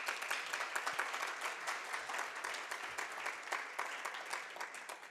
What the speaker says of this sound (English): please stand and let us give you a round of applause